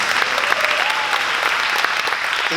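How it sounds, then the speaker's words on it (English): An audience at an interview event applauds loudly and steadily, continuous dense clapping with a faint voice tone under it. "Give my cousin a round of applause, please."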